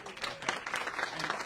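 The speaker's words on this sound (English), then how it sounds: "So we have to give them a round of applause, okay?" Audience applause at a ribbon cutting for the Jersey City Business Incubator, a brief spell of scattered clapping from a gathered crowd, moderately distant and fairly soft.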